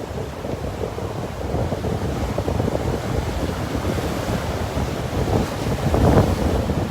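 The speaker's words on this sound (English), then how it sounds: "Sorry about the wind. There is absolutely nothing I can do about that." Strong wind buffets the microphone on a beach in North Naples, Florida, making a constant loud rumble that mixes with the wash of surf and swells near the end.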